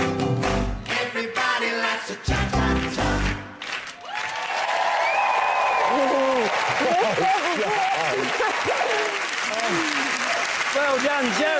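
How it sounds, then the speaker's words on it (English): Studio audience applauding and cheering after a cha-cha-cha on a ballroom dance show, loud sustained clapping that swells and carries on, with a host speaking over the noise. "Let's hear it for Jerry and Anton"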